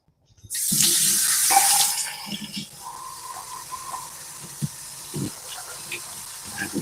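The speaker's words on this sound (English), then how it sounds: "First things first, I wash my hands." Tap water runs into a sink for a hand wash before cutting jalapenos: a loud rush bursts in after a moment of silence, then thins to a lighter splashing with scattered clinks.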